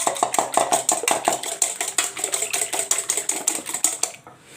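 Eggs beaten with a whisk in a bowl, a quick steady run of sharp metallic clicks and scrapes, close and loud, fading out at the end.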